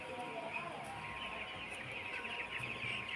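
Seventeen-day-old broiler chickens feeding in their shed make a dense, continuous chorus of soft clucks and cheeps with occasional sharper calls, while faint voices murmur in the background.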